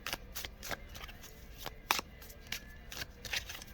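New, stiff Mystical Medleys tarot cards are shuffled by hand, making repeated soft riffling and slapping bursts in an irregular rhythm, close and fairly quiet with no voices.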